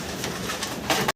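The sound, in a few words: grey barless German Beauty Homer pigeons cooing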